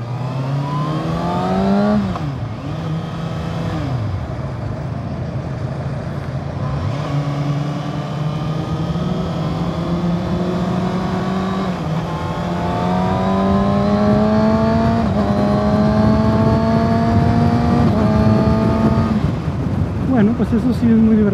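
A 2022 Kawasaki Ninja ZX-6R sport motorcycle engine revs hard and climbs through several gears using a quick shifter, each shift dropping the pitch before it rises again, loud and continuous with someone talking over it.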